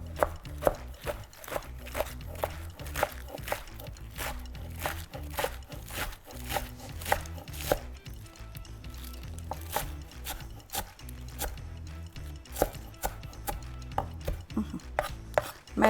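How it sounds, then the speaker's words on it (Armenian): A knife chops spinach finely on a board, producing rapid, rhythmic crisp strikes that repeat steadily and close up, with faint leafy crinkling between cuts. "ոնց կուզեք կտրատեք, բայց ես մանր եմ կտրատում"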